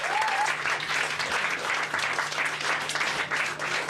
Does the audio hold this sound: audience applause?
yes